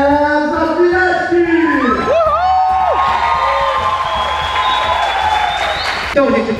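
A comedy-bar audience cheers, whoops and applauds as a guest comes on stage, with loud shouting voices rising and falling over continuous clapping.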